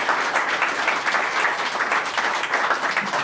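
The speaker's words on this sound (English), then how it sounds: "a big round of applause for the winners of the identity track, ladies and gentlemen" Steady applause from a conference audience for the identity track winners, a dense and even wash of clapping heard close throughout with no pauses.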